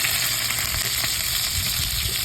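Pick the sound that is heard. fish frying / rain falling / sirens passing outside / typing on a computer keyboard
fish frying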